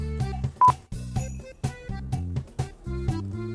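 A phone rings with an incoming call, a short electronic ringtone of quick beeping tones in an uneven repeating pattern, moderately loud with no talking over it.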